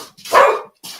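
A dog barks while attacking, one loud close bark followed by a second quieter bark.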